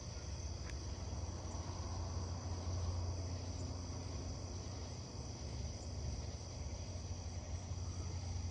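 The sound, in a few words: katydids calling at night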